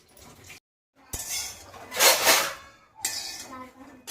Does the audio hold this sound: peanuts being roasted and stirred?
yes